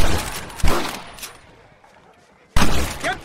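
Bursts of gunfire in a Red Dead Redemption shootout, sharp loud volleys at the start and end with a quieter echoing lull between, with voices shouting over the shots.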